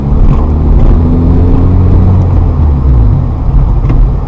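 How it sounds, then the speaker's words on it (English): A manual transmission car pulls away in first gear as the clutch comes out, with a loud, steady low engine rumble throughout. "First gear, clutch up to bite, hold the clutch, car rolls, clutch out."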